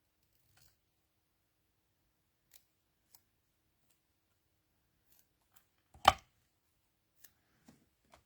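Scissors trim the ends of a paper craft. One crisp, fairly loud snip stands out in near silence, with a few faint clicks and taps around it.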